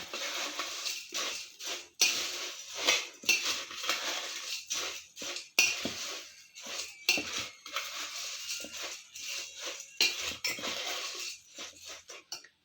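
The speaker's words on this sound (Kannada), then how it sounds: "ಇವಾಗ ಇದನ್ನ ಫಸ್ಟ್ ಒಂದು ಸಲ ಮಿಕ್ಸ್ ಮಾಡ್ಕೊಂಬಿಡೋಣ" Churumuri with chopped coriander leaves is tossed and mixed in a bowl, close and clear: about twelve seconds of irregular scraping, crunching and light clinking strokes with no voice.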